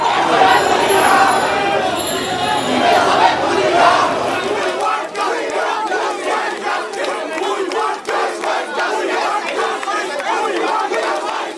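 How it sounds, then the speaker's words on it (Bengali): Lawyers held at the gate of the Supreme Court grounds chant slogans in a protest. A loud crowd shouts in rhythmic unison, repeating short call-and-response phrases with a steady cadence, heard from close by. "সেখান থেকে নানা স্লোগান দিতে থাকেন আইনজীবীরা"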